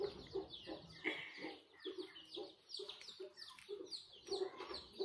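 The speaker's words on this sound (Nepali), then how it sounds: "तपाईँहरूलाई म अब हाम्रो कुखुराहरू पनि देखाउँछु।" Farmyard chickens cluck and call in short repeated bursts on a quiet evening at a family home, fairly close and moderately loud, with no one talking over them.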